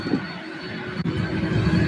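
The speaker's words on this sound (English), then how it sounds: "Amerijet 2796 bound for El Paso." An Amerijet jet airliner at SDF airport, a steady broadband engine roar with a faint high whine, moderately distant and unbroken over the short stretch, no speech.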